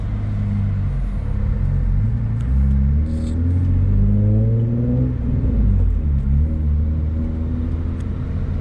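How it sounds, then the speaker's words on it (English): A manual transmission car pulls away from a stop in first gear, the engine droning loud and close with rising, shifting harmonic tones as revs climb and settle over a constant low cabin rumble. "Now slowly gas it and slowly let go of the clutch."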